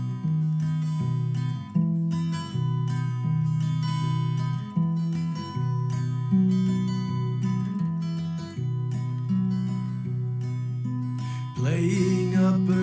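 An instrumental song plays steadily, with a low repeating bass line under layered tones and percussive accents, and a brief brighter swell near the end.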